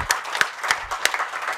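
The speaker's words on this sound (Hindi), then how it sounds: "प्लीज एक तो बनती है ताली जबरदस्त।" Audience at a GATE 2023 rankers' summit clapping, a modest, fairly quiet round of applause with a few individual claps standing out above a soft, steady patter.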